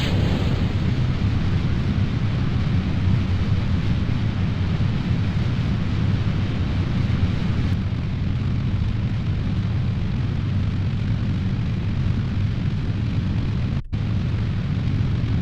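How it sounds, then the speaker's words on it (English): Rocket launch in the video game Kerbal Space Program: a sustained, loud, dense roar of engine thrust that barely varies throughout, cut briefly by a sharp glitch near the end. "So we are going to launch the rocket again."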